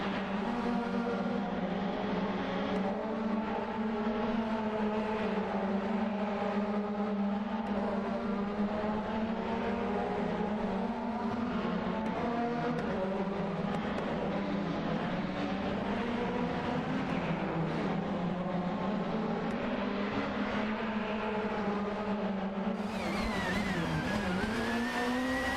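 Race car engines in a racing video game drone steadily, with a sustained buzzing engine tone that rises and falls gently and a sharper shift in pitch near the end, with no talk over it.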